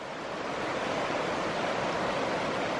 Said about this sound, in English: I'm camped out right on the shore of the creek.